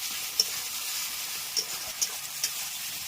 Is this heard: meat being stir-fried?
yes